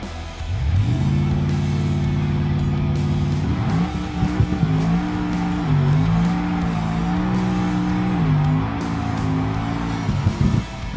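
Barstow drag race car making a pass down the grippy Alder Drag Strip in BeamNG, its engine roaring loud and close through rising gear-shift steps for about ten seconds before cutting off.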